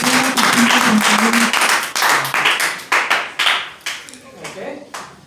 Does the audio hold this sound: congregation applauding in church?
yes